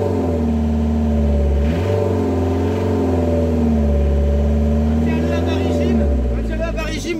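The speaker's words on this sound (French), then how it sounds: "Accélère-le, on va l'accélérer." A camping car engine held at steady revs, a loud, close, continuous low drone that dips briefly and climbs again, with someone speaking French over it.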